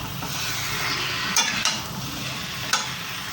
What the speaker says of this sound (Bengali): এবার ভালোভাবে মশলাটার সাথে মিশিয়ে নেব।